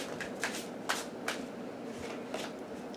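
A deck of playing cards being shuffled by hand, several quick crisp riffling bursts spaced irregularly, close and fairly quiet, with no speech.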